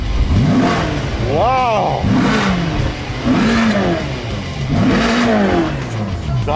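A fire-damaged Ferrari, just back running after a fuse swap, revs up in several loud rising and falling bursts close by, while voices talk and exclaim over the engine.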